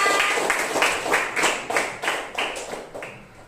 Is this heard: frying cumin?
no